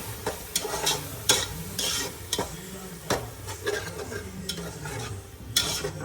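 A masala paste of coriander leaves, mint, cinnamon and cloves fries in a pan for mutton biryani, a steady sizzle broken by repeated spoon scrapes and taps against the pan.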